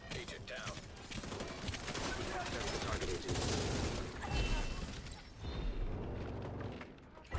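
Sustained minigun fire in The Division 2, a dense continuous roar of rapid shots running almost the whole time with a few brief dips, loud and close, with game noise layered through it.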